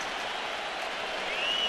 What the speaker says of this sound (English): Now the crowd into it.